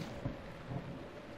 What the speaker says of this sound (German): Wirklich? Jetzt Regen?